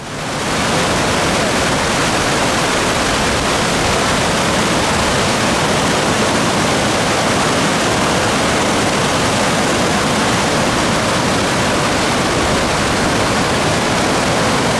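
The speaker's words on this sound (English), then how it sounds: "we went another walk up the river, which was now in spate." A river in spate roars in a loud, unbroken rush of churning water, dense and constant from start to finish, with no voices.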